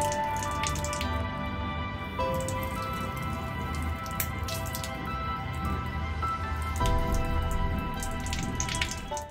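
Water runs through a solenoid valve opened by a magnet, making a steady patter and dribble with a constant electrical hum underneath.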